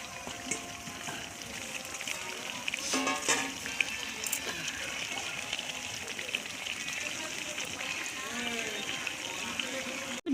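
Potatoes and water go into a pot of partly cooked meat, a soft gushing pour and splashing with clinks of utensils, fairly faint and steady, while someone talks over it.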